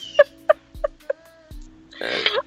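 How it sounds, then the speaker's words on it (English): A crow or raven calling outside a window gives four short, rough caws in a slow, even series, then a voice murmurs nearby. "Is that a raven? Did you say a crow?"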